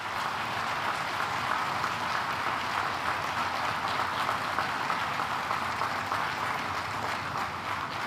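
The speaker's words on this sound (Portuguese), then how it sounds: "Peço a todos uma singela salva de palmas para todos os colaboradores" At the Usiminas blast furnace 1 restart ceremony, an audience gives the steelworkers a round of applause, a soft, even patter of many hands that holds steady throughout.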